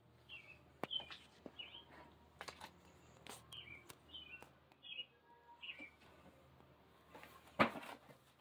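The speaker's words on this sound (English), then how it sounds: "What's that bird sound?" A bird chirps a series of quick, high tweets repeated at an uneven rhythm, faint and somewhat distant, mixed with scattered clicks and soft knocks nearby.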